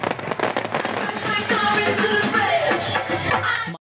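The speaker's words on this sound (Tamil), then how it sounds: "வான வேடிக்கையுடன் பல்வேறு நிகழ்வுகளை அவர்கள் ஏற்பாடு செய்திருந்தனர்" Fireworks bursting at an outdoor Christmas celebration held by foreign tourists in a Sri Lankan tourist zone, a dense, continuous crackle of loud pops and bangs running unbroken for nearly four seconds before cutting off abruptly.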